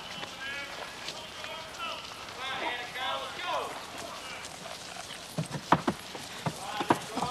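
A Detroit mounted police horse's hooves clop on the ground in an uneven run of sharp knocks toward the end, with people talking over it.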